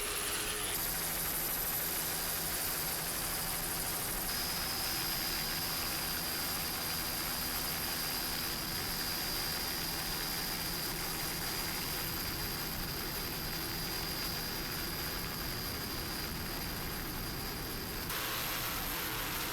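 A 36-foot Cigarette Gladiator offshore racing boat with twin Mercury Racing engines roars steadily at a race off Ocean City, a dense, continuous engine and wind-rushing noise holding for about twenty seconds.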